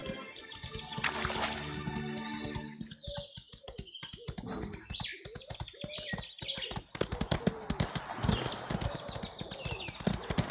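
Hoofbeats of a horse in the Ostwind video game clop rapidly and evenly, with a whinny early on and water and bird sounds mixed into the game background.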